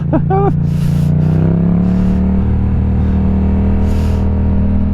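A car drives through a right-then-left bend, engine humming steadily with a shifting tone, interior road noise constant throughout, a few brief chimes and a short voice near the start.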